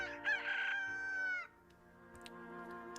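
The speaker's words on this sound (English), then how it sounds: "Bob and his chickens." A rooster crows in the video game Slime Rancher, one long, loud, harmonic cock-a-doodle-doo that ends at about halfway, followed by quieter steady game ambience.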